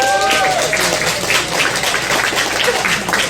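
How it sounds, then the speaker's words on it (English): Audience at a high school jazz jam applauds trumpet and tenor sax soloists after a tune, a dense sustained wash of clapping with a few faint tonal notes fading at the start and some crowd noise mixed in. "Give him a round of applause."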